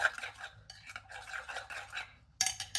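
Melted chocolate for a tofu mousse gets stirred in a bowl, with soft repeated scraping and smearing strokes close by, followed by a brighter clink at the end.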